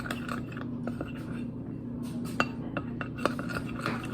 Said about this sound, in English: Okay, try to get this as mixed as possible.